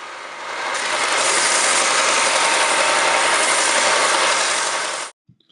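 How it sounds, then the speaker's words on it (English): Belt sander working a wooden Telecaster guitar body, a loud steady abrasive roar with a buzzing mechanical edge that runs continuously for about five seconds before cutting off abruptly. "it's really important that you go back and forth and you just don't let the wood dig in to the belt in one spot"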